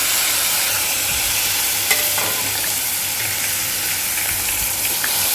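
Sliced onions and curry leaves fry with fennel seeds in hot oil, giving a steady, close sizzle with a few soft stirring scrapes and no voices.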